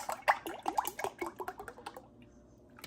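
Four cups of water poured into a soup pot, a quick run of gurgling, bubbly splashes that slows and fades out after about two seconds, close and fairly quiet.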